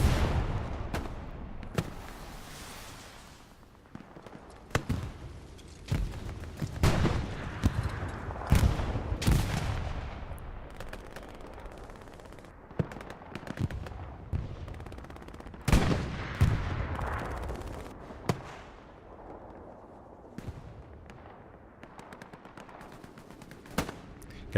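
Bursts of machine gun and rifle fire in a Hell Let Loose battle on Smolensk, sharp cracks and rattling volleys rising and falling over a steady backdrop of distant gunfire, with heavier clusters near the middle.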